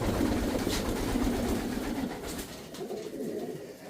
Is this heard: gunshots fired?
no